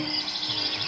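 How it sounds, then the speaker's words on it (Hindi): Soft, steady bird twittering and chirping fills a calm ambient background. It stays fairly quiet and continuous throughout, with no voices. "कई पक्षी चहचहा रहे हैं"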